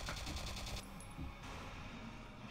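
Bursts of rapid automatic gunfire from the Painkiller Jane video game, a dense loud volley in the opening moment, then scattered shots and game noise trailing off.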